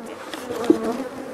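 Dense, steady buzzing from a mass of bees in a box taken down from an aggressive hive, a close and continuous drone with a faint thump partway through.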